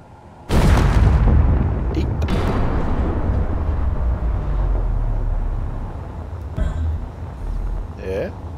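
A sudden heavy boom from a warhead-like explosion in the video game Space Engineers erupts and rolls into a long rumbling tail, with faint clicks and a brief squeak afterward.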